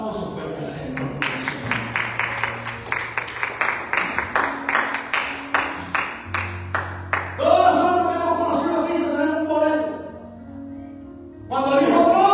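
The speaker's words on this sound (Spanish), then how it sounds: "Un aplauso fuerte al Señor." Church congregation claps rhythmically and loudly for several seconds during a Spanish-language sermon, then the preacher's voice takes over with music underneath.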